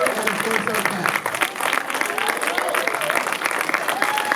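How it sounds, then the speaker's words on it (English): A theater audience at a New York film festival screening applauds steadily, dense continuous clapping filling the room for a few seconds. "A round of applause for our filmmakers"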